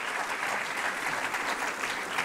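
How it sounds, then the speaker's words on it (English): A conference audience at the ICRACCIT-2019 international event gives a round of applause, a loud, even wash of many clapping hands that carries on without a break. "he deserves a round of applause for this"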